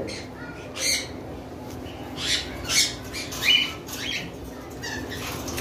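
A breeding pair of pet parrots, a male and a female, on a bird farm give several harsh, scratchy squawks spaced a second or so apart, close by over a low background hum.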